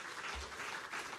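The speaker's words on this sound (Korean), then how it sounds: "우리 하나님께 영광의 박수 드리겠습니다." A church congregation claps during a Sunday worship service, a brief, faint, dense patter of many hands lasting about a second.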